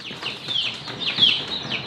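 Small free-range village chickens cluck softly in a short burst of close, scratchy calls, alone with no talking.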